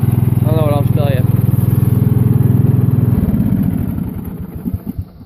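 A Simplicity riding mower with a 16 hp Briggs and Stratton engine runs steadily up close with a loud, even putter, then the tone shifts and grows rougher and uneven toward the end; a voice is briefly heard over it early on.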